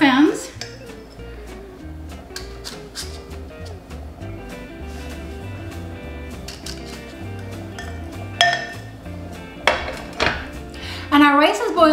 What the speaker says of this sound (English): And now you just spoon this into your muffins.